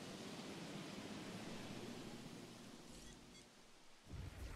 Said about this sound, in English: The storm is over? That's it?